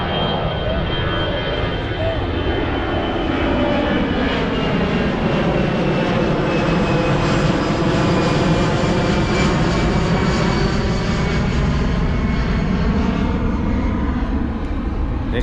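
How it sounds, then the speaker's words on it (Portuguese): A loud airplane passes low overhead near Porto Seguro, Brazil, a continuous roaring engine drone with a slowly shifting pitch that fills the whole stretch. "Tem um avião aí."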